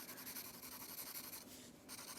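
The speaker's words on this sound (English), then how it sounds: "Pushing a little harder on the pencil," A pencil shades an apple sketch on paper with firm pressure, making soft, continuous scratchy strokes that are close and quiet, with one short pause in the rubbing.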